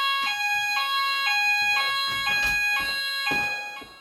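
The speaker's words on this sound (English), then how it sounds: "With the alarm activated," An office fire alarm sounds with a loud, steady tonal beeping that repeats about twice a second, close and continuous, with no voices.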